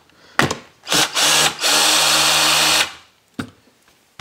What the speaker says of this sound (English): I'm actually going to use my power drill here